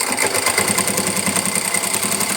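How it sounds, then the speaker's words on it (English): A sewing machine stitches a straight seam on stretched fabric for culottes, a steady, fast mechanical whir with rapid regular needle clatter, close and continuous. "I just put a straight stitch."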